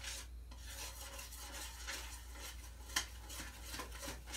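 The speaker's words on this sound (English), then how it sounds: "I want to kind of stir it around" A spoon stirs an orange jello and popcorn ball mixture in a pot, making soft, continuous scraping and swishing with faint sizzling and a brief metallic clink partway through.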